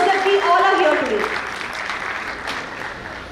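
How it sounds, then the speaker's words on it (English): Conference audience applause, a broad wash of clapping that peaks early and slowly tapers off, with a voice sounding briefly over it at the start. "A huge round of applause for them"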